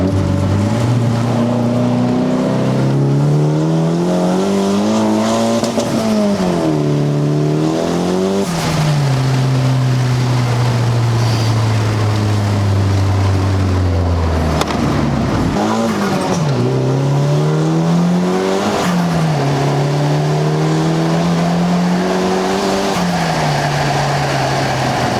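A Volkswagen Golf R with a resonator delete and a decat accelerates hard through the gears from inside the cabin. The loud, raspy engine note climbs again and again with short dips at the shifts.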